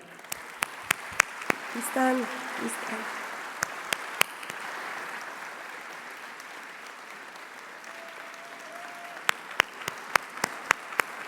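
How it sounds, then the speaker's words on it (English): An audience at the Bibliotheca Alexandrina celebration applauds the library's engineers with a steady wash of clapping under a host's amplified voice, with sharp louder claps standing out near the start and end. "Please join me in a round of applause to them."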